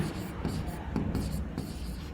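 Marker or chalk scratching across a board in a maths lesson, a steady run of short strokes with a few louder taps, close and clear over a low room hum.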